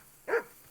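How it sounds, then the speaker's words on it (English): A single short dog bark in the medieval video game Kingdom Come: Deliverance 2, brief and moderately distant against a quiet background. "I assume you can hear that damn dog of yours barking."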